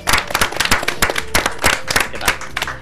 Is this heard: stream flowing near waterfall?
no